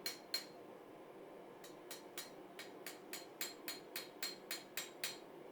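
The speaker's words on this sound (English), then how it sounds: "so those hammer blows really show up" A hammer strikes a steel bar in sharp ringing taps: two quick hits, a pause, then a steady run of about a dozen evenly spaced blows, fairly quiet.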